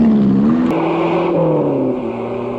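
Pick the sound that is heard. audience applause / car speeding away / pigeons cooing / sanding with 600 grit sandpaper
car speeding away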